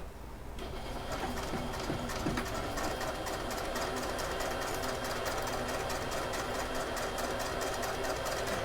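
A sewing machine stitches slowly around a curve in a wallet piece, giving a steady, close mechanical whirr with fine repetitive needle clatter that runs unbroken throughout.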